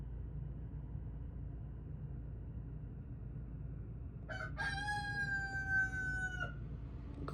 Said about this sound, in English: the rooster, never shuts up